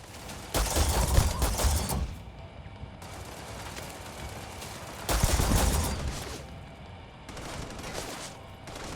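Gunfire in the video game Starfield aimed at turrets, heard as two loud, dense bursts of rapid shots with lighter fire and a quieter stretch between them.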